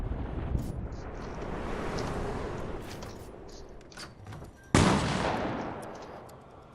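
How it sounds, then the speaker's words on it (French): Sustained bursts of gunfire in the Fortnite video game, dense and continuous. A sharp louder volley breaks in near the end. "Ils tirent sur je sais pas quoi"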